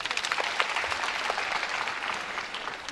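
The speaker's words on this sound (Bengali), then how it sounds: "ওর জন্য আগে করতালি" An audience at a debate talk bursts into clapping, with many hands beating in quick, uneven rhythm at a moderate level and no voices over it.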